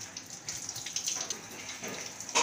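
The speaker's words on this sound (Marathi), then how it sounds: "नळाखाली असं स्वच्छ धुवून घ्यायचं। खेकडे साफ करताना पाणी मात्र भरपूर लागतं।" Crabs rinsed under a running kitchen tap while cleaning them for a crab curry, giving a steady close hiss of flowing water with small splashes throughout, no voices.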